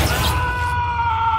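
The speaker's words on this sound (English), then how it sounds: "he makes this hilarious scream" A man's comical, drawn-out scream from the Aquaman movie after a fight where he is impaled, a loud strained cry ringing over crashing, shattering film sound and score.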